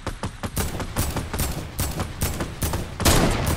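Gunfire aimed at a falling airdrop in Fortnite: rapid bursts of shots, loud and close, continuous for a few seconds without talking.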